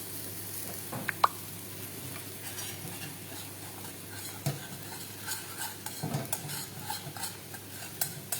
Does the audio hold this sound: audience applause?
no